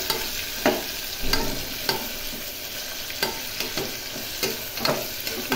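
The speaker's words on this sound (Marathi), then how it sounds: "व्यवस्थित असा कांदा आम्ही गोल्डन करून गुलाबी कलरचा करून घेणार आहे" About four onions fry in a pan over a high flame while being stirred toward golden, with a steady close sizzle broken by regular scraping stir strokes roughly every second.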